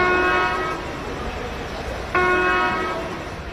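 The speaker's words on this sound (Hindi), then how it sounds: "एक छोटा एक बड़ा सीटी मारने से कि हमको असिस्टिंग इंजन चाहिए" An Indian railway train horn blows one short blast and then a longer one, loud and nearby against a steady rumble of train noise.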